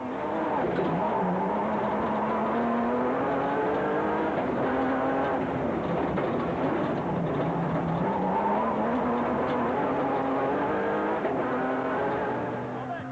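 Nissan race cars powering past during the 2004 Toyota 1000 motor race, loud sustained engine roar with rising and falling pitch as the cars pass and change gear, continuous and fairly close, with commentary faintly under it.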